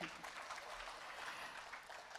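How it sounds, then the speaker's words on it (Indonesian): Audience at an Islamic boarding school gathering in Kudus clapping on request, a faint, distant patter of many hands held steady over a couple of seconds. "Tepuk tangan dong."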